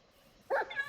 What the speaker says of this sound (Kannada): 1 2 3 4 ನಾಯಿ.